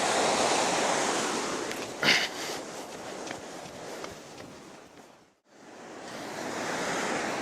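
Ocean waves break and wash up a sandy beach on the Great Ocean Road, a loud continuous roaring surf with one brief swell and a momentary drop before the rush returns.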